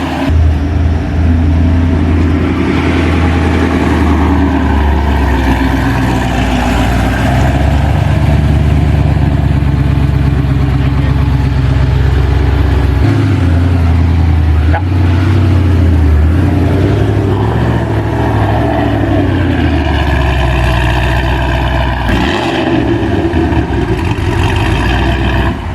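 A Ford Mustang engine runs loud and close for a long stretch, a deep steady idle broken by several rising revs and falling back, the rumble filling the whole span without talk.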